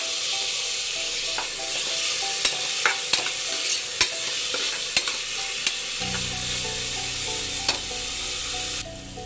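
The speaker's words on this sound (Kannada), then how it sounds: "ಟೊಮೆಟೊವನ್ನು ಸೇರಿಸ್ಕೊಂಡು ಫ್ರೈ ಮಾಡ್ಕೊಳ್ಬೇಕು" Onion and tomato frying for pulao in a pan, with a steady sizzle and repeated scraping stirs of a spoon, moderately close and alone without talk.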